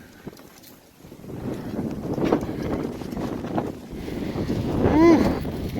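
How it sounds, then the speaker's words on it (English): Cold wind gusts outdoors beside an RV at a gray tank dump, rushing and buffeting the microphone in uneven waves, with a voice breaking through. "Woo, windy, cold."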